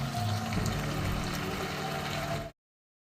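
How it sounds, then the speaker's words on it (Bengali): Water pours steadily into a pan of chilli chicken gravy, a close gurgling splash that runs for about two and a half seconds and then stops abruptly. "তো দেখো এখন আমি আমার প্রয়োজন মতন জল দিচ্ছি"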